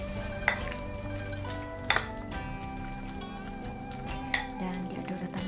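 Mustard greens seasoned and coated with cornstarch and a spoonful of cooking oil are stirred in a pan, giving a steady soft sizzle with a few sharp clinks of the spatula against the pan.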